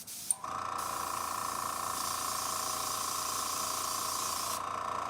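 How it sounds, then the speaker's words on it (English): A sharp pop, then a steady, loud hiss of an airbrush spraying primer for about four seconds before it cuts off, during miniature priming. "Do a test spray."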